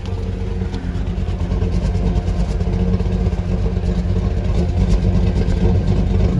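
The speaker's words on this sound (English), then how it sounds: "I'm gonna get a fully stock exhaust sound clip real quick" A cammed single-cab pickup truck engine idles on its stock exhaust, a steady low, even rumble, continuous and unchanging, no voices present.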